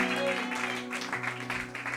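A church congregation applauds and cheers for its pastors, a broad wash of clapping and voices held over sustained musical tones for the whole stretch.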